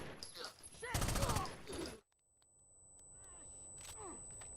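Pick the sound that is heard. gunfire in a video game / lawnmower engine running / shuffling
gunfire in a video game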